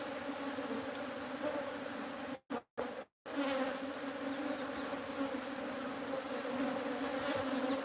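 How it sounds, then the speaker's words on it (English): Dense, steady droning hum of thousands of honey bees at a bee sanctuary hive, close and continuous, broken only by a few brief dropouts near the middle. "Thousands of bees."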